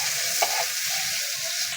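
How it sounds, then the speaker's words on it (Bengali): Onions frying with salt in a pan for an egg curry, a steady close sizzle with faint stirring scrapes, heard alone. "পেঁয়াজটাকে ভালো করে ভেজে নেব।"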